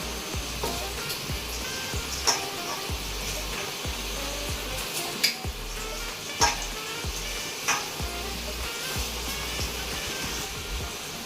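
Potato pieces frying in hot oil for a homemade mutton biryani, a steady soft sizzle with occasional sharp ticks and clinks of a utensil against the pan.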